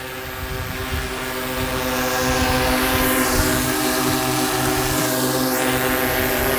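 A DJI Matrice drone on a tethered power station spins up and takes off, its propellers giving a loud, steady, multi-toned whine that builds and then holds close by.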